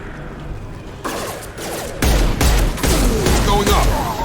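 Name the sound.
gunfire in the video game Mass Effect 2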